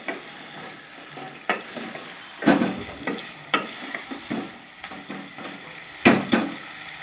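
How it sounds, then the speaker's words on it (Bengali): Up close, pieces of eggplant sizzle quietly in hot oil while a spoon stirs and scrapes the pan in several irregular knocks and scrapes. "তো বন্ধুরা এরম ধারা তেলে দেওয়ার পরে নাড়তে থাকবে"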